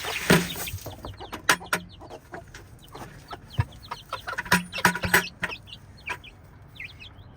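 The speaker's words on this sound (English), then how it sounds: "They're just barnyard chickens." Chickens clucking and calling in a barnyard, several birds close by with irregular bursts of clucks and a brief flutter of wings.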